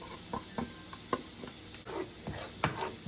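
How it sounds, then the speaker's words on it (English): Garlic added to softened vegetables in a pot for loaded baked potato soup, giving a soft sizzle broken by scattered spoon scrapes and stirring clicks, fairly quiet and close, with no talking. "And I'm going to add my garlic."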